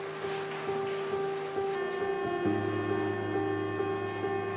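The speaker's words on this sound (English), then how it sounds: "our industrial dicer does the hard work of dicing the vegetables" An industrial vegetable dicer runs at a food recovery facility, giving a steady loud motor hum with tonal whine that shifts pitch partway through as the machine's load changes.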